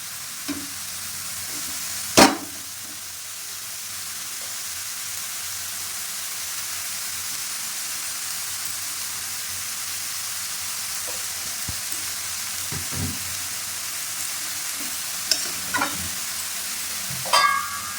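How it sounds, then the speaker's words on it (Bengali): Cabbage with prawns stir-frying in a pan, a steady close sizzle broken by a few sharp spatula scrapes and clatters against the pan, with no talking. "2 মিনিট পর আমি আবার বাঁধাকপিগুলো নেড়ে দিলাম"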